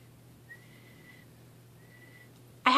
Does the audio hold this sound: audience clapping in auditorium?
no